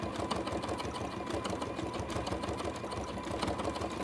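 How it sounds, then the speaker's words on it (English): Steady, close hum and rapid whirring of a sewing machine stitching fabric pieces for a horse collage, running continuously without pause. "Sort of doing a couple of stitches, skipping in between"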